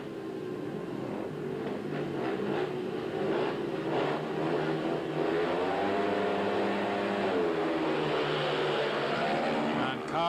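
Speedway motorcycles race in a 2003 Berwick Bandits versus Edinburgh Monarchs meeting, engines droning and rising in pitch through the corners under continuous commentary.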